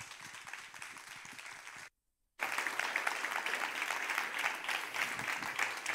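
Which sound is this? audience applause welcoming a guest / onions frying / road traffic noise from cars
audience applause welcoming a guest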